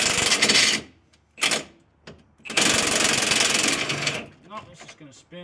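A power tool cuts off rusted suspension bolts on a 2003 Element in loud, harsh, grinding bursts: a short run, a brief blip, then a long sustained cut, followed by a voice talking close by.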